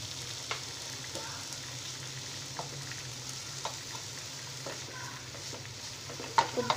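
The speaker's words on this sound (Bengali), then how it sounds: "ভালো করে চিকেনটাকে মিশিয়ে দিতে হবে সবজির সাথে।" Half a cup of chicken mince stirred through vegetables in a pan for a spicy vegetable bun filling, with a low steady sizzle and soft scraping strokes, a few sharper clinks near the end.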